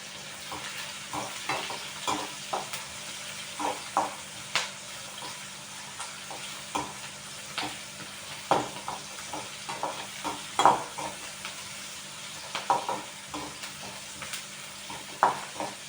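Chopped onions fry in a pan for chicken kurma masala, a continuous close sizzle broken by regular scraping stirs and clinks of a spatula, with no talking.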